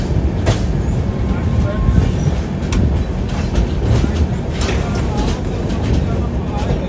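From inside a Second AC coach, the Chennai Rajdhani Express rolls slowly through a junction with a steady loud rumble and faint rhythmic wheel clicks, and a voice is heard now and then.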